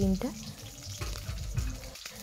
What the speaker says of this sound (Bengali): তো এদিকে ডিমটাকে সেদ্ধ করে নিয়েছি, একটু ভেজে নিচ্ছি